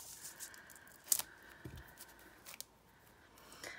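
Scissors snip open the packaging of a card deck, a few quiet, brief cuts and rustles against a hushed indoor background, with no talking.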